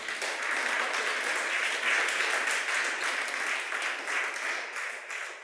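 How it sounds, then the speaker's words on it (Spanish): An audience at a church service claps in a steady, even wash of applause that holds at a moderate, somewhat distant level for about five seconds, with no voices over it. "Fuerte aplauso."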